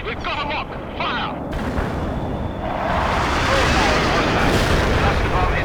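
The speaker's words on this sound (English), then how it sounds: "Cluster bomb hit." Cluster bomb explosions in the World in Conflict video game, a dense continuous barrage of loud booms and crackling blasts that swells louder in the second half, with battle noise throughout.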